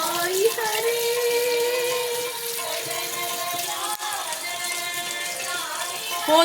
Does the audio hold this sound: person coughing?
no